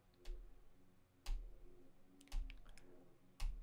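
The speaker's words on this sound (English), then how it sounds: "Now let's hit the backslash key on our keyboard." Four separate sharp clicks, roughly one second apart, sound like single keys struck on a computer keyboard during photo editing, each with a brief low thump, heard close against a quiet background with no talking.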